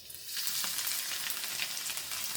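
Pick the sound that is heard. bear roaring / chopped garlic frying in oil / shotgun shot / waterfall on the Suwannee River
chopped garlic frying in oil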